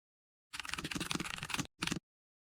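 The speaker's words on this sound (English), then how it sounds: "I have downloaded this typing sample from freesound.org" Downloaded typing sound effect sample: a dense burst of rapid keyboard-style clicks for about a second, a short pause, then a brief second flurry of keystrokes, close and clear with no voices.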